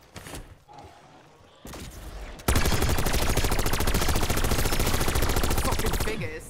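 Rapid automatic gunfire in Black Ops 6 Zombies on the Liberty Falls map, starting with scattered shots and then a long, loud, sustained burst of fast rhythmic blasts that fades near the end.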